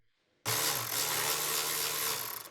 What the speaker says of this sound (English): Use a Phillips bit with an electric ratchet wrench.